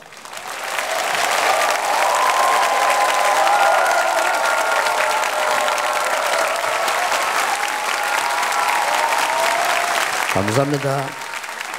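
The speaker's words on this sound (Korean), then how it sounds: "나오실 때에 환영의 박수를 드리겠습니다." A church congregation applauds steadily and loudly for a visiting pastor at a sanctuary dedication thanksgiving service, the clapping sustained for about ten seconds before a voice briefly speaks as it fades.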